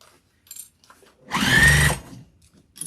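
Sewing machine back stitching the seam of a vinyl and cotton tote bag: one short, loud burst of motor whir near the middle, with faint handling noises before and after.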